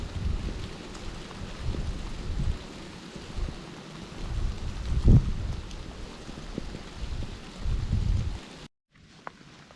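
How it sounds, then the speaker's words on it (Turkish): Steady patter of light rain on a campsite with a soft gusty rumble underneath, continuous and fairly close, with no voices. "Yağmur inceden inceden yağmaya başladı."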